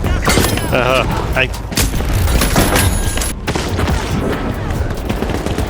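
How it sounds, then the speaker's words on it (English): Gunfire in The Finals comes as dense, loud bursts of shots and booms running nearly the whole time, mixed with clanking game effects while players talk over it. "he's shooting us from below"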